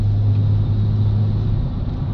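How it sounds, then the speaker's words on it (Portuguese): A Honda Civic drives on a highway under cruise control, giving a loud, steady low engine and road rumble from inside the car with no voices. "O carro tá acelerando sozinho."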